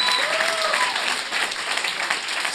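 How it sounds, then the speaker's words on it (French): An audience applauds during a live podcast recording, a continuous close wash of clapping with a faint whistle or voice rising briefly through it. "j'aimerais ça qu'on donne une bonne main d'applaudissement à Yann Terriot"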